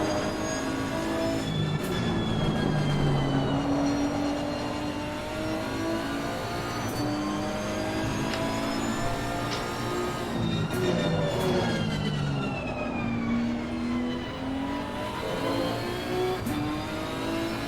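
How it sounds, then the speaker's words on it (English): A Nissan GTR driven in the Assetto Corsa Competizione racing game at the Hungary circuit, a loud continuous engine note rising and falling through upshifts and downshifts with rapid revving sweeps and no talk. "Let's see what it sounds like to be in this Nissan GTR."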